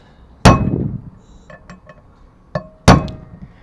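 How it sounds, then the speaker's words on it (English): A hammer drives a chisel against the rear axle bearing of a Toyota truck (FJ Cruiser, Tacoma or 4Runner type), giving two loud, sharp metallic strikes with ringing decay and a few lighter taps between them, close up with no speech. "Okay, so I'm whacking it right now with a chisel."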